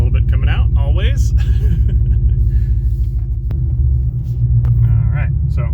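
Car with a new 4.5-inch cluster build rolls around the block, a steady close engine rumble and drone running throughout with some voice over it.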